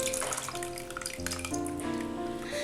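Tamarind water poured into an onion curry in a South Kerala kitchen, a soft continuous trickle and splash of liquid into the pot, fairly quiet and steady throughout.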